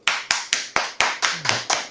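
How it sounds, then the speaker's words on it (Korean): A handful of sharp, single hand claps land in an even rhythm, roughly four per second, close and distinct with a short decay after each, at a drinking session among friends. "박수!"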